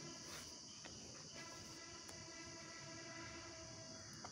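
Rumbling train sounds at a railway station, with steady rolling noise and a faint repeated tonal whine, alongside insect-like chirping in the background, continuous and fairly distant with no speech.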